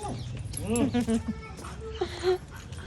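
A dog whimpers near people, giving a few brief high whines that rise and fall amid steady voices talking close by.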